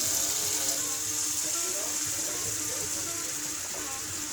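About 200 millilitres of coconut milk pours steadily into a pot of curry laksa with a soft continuous gush and hiss, close by, with faint kitchen clatter in the background.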